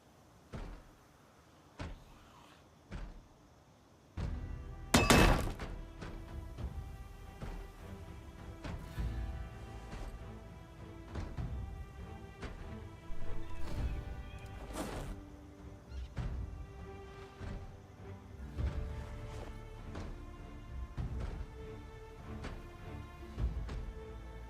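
Heavy impacts from a sledgehammer smashing objects in Project Zomboid repeat in a loose, irregular rhythm, sharp crashing hits and rattling debris over a quiet game background, with no talking.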